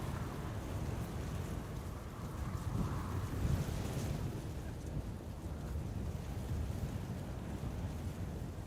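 Gusty wind at Amsterdam Schiphol Airport, a continuous rough rumble of buffeting against the microphone that swells and eases slightly over several seconds, with no talking.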